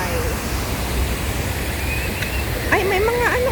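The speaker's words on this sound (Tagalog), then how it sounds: "waterfalls. Ang tubig ng buhay." Waterfall in Tsuen Wan Park, Hong Kong, a steady, full rush of falling water with a voice speaking over it near the end.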